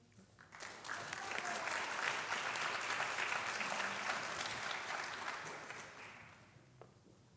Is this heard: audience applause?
yes